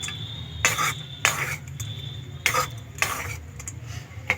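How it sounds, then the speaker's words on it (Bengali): Semolina being stirred continuously in a pan with ghee, a series of distinct scraping, clinking strokes of a utensil against the pan at an uneven rhythm, fairly quiet with pauses between strokes. "এবারে ভালো করে অনবরত নাড়তে থাকবো"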